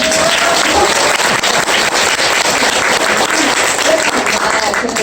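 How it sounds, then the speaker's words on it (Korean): Audience applause at a talk or seminar, a dense steady wash of clapping filling the whole stretch at close, even loudness. "박수 한번 쳐주세요."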